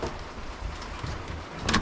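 Rain falling outside a remote fishing lodge, a soft steady patter with a sharper burst of drops near the end, no voices.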